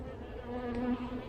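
Honey bees buzz at a hive, a soft, close insect hum with a steady pitched drone that swells briefly, heard alone without voices.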